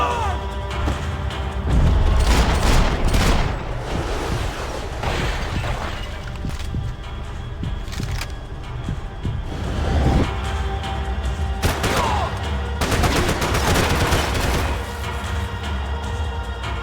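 Gunfire in the Max Payne video game comes in bursts of loud shots, booms and shattering crashes, with sporadic heavy impacts spread across the scene.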